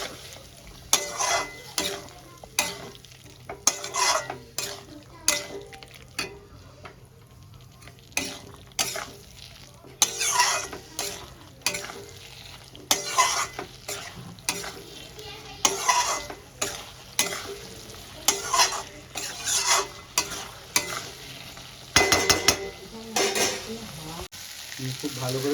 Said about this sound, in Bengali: এবার আমি ভালো করে একসঙ্গে কষাতে থাকবো।